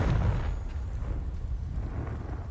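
Confringo fire-blast spell in Hogwarts Legacy: a booming explosive burst at the start that rolls into a low rumbling decay, loud and close, with no voice over it.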